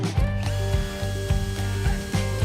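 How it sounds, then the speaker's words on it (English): A power driver drills and drives screws into wooden planks for a garden bench, giving a close, loud, ratcheting whir broken into regular pulses, alone without voices. "Drill holes in them and screw them together."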